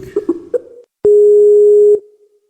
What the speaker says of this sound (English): Pardon the ringing noise.